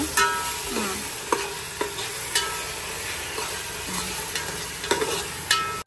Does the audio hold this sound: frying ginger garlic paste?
yes